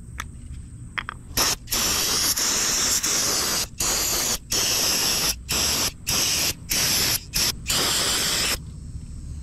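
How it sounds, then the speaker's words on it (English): Brake parts cleaner sprayed onto the back of a 2000 Honda Accord distributor: a series of loud close aerosol hiss bursts, one long blast followed by several shorter sprays with brief gaps between them. "all I'm going to do is spray the back of this distributor just to clean it up a little bit"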